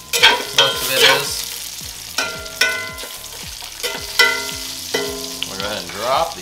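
Bacon and jalapenos sizzle and crackle in a frying pan, repeated scraping stirs and sharp utensil clinks over a steady hiss, close and fairly loud with no talk.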